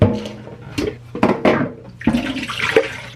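Dirty water from a Dirt Devil spot cleaner's tank being poured out, several splashing gushes and sloshes in short bursts, close and fairly loud.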